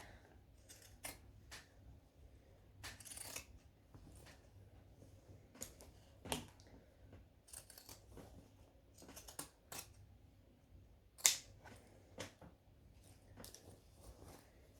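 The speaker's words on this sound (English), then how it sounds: "now I'm going to grab my zigzag scissors again and start trimming those curves so that they sit nicer inside the bag" Zigzag pinking scissors trim the curved seam allowance of a sewn fabric bag, making quiet crisp snips in irregular bursts, close by in a still room.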